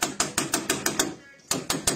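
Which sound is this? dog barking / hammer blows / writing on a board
hammer blows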